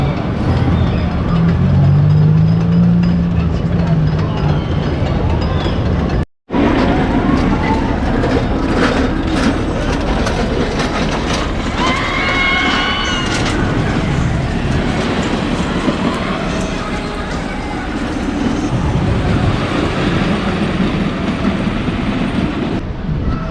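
An old, rickety wooden roller coaster at Coney Island rumbles loudly and steadily, with a continuous clattering roar that holds for over twenty seconds, broken by one instant of silence, with no talking.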